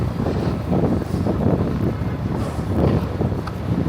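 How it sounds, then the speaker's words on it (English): Strong wind gusting on a New York City street in the West Village, heavy buffeting roar against the microphone, loud and continuous with surging gusts. "Wow, that's windy. I don't know if you can even hear me right now. The wind is like relentless at the moment."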